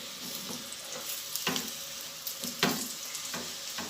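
A radish-stuffed paratha fries on a pan over a low flame, giving a soft continuous sizzle with a few sharper crackles and pops.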